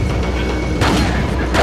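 A frag grenade detonates in Resident Evil 4 amid ongoing gunfire and combat noise, a loud, dense booming burst with a sharper blast partway through.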